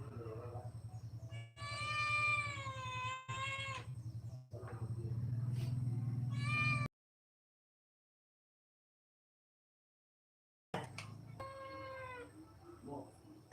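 A cat meows repeatedly in drawn-out, wailing cries with short breaks, close and fairly loud over a low hum, followed by a long silent gap and then another meow; a few voices are faintly present.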